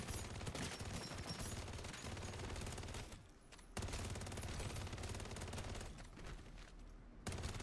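SMG hip fire in Modern Warfare III Zombies: long, dense bursts of rapid automatic gunshots, loud and continuous, with brief pauses between strings of fire and no talk over them.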